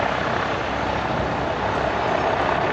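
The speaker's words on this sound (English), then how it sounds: "Oh, that helicopter is going to land on the roof of that building." A helicopter flying overhead in a city, about to land on a building roof, gives a steady, loud broadband rotor and engine roar that holds constant throughout with no talk.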